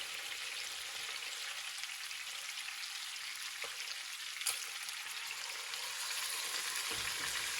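Pork loin sears in a pan with a continuous, even crackling sizzle, fairly quiet and unbroken, with a couple of faint knocks.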